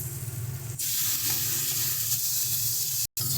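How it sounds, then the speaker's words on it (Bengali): Pre-chopped tomatoes hit a pan of frying spices for a prawn and yardlong bean dish, setting off a sudden loud, bright hissing sizzle that holds steady, with a brief dropout near the end. "দিয়ে দিচ্ছি আগে থেকে কেটে রাখা টমেটো,"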